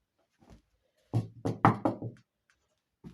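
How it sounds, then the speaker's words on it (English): Four loud knocks on a door come in a quick, even burst, with a few faint taps before and after them in an otherwise quiet room. "I think I hear the door knocking."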